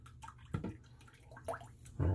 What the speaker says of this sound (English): I'm gonna rinse it off in that water